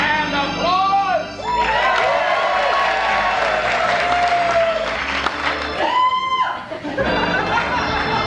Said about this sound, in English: All righty, and applause.